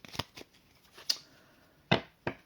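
Cards from a deck being shuffled and drawn, a handful of short crisp riffles and snaps spaced irregularly over a quiet background.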